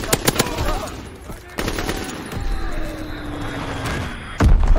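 Gunfire in the Call of Duty video game: a rapid machine-gun burst opens, sharp single shots and thumps follow over a dense rumbling game soundscape, and a heavy blast near the end is loud and close.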